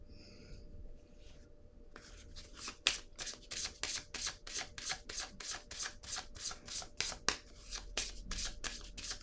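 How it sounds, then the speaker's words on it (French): Oracle cards being shuffled by hand and laid down during a tarot-style reading, a fast steady series of crisp papery riffles and slaps, close and fairly quiet, running for several seconds without talk. "je vais déposer une carte ici"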